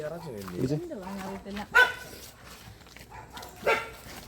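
A dog barks near a netted well, two sharp barks standing out after a stretch of close talking.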